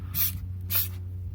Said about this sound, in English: I'm gonna start spraying.